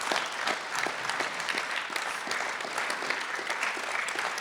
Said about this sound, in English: let's give another warm round of applause to all of our candidates